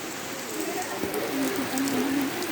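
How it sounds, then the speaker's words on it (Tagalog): Steady rain patters outdoors near puddles beside a school activity area, a soft continuous hiss with faint drops close by, and no talking. "Yay, it's raining."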